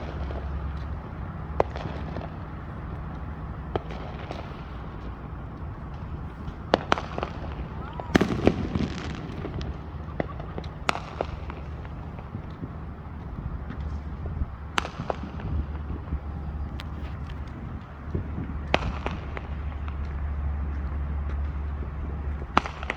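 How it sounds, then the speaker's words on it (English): July 4th fireworks in Katy, Texas, popping and booming at a distance, with scattered sharp cracks and deeper bursts over a continuous rumble and occasional voices. "At least I get some enjoyment out of fireworks."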